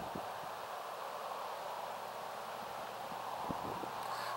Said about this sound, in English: We got a windy night